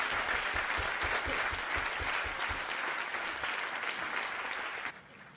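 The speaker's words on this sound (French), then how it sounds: "Ils applaudissent leur prof, normal." Students clapping for their professor in a classroom, a steady dense round of applause that carries on for several seconds before cutting off sharply near the end.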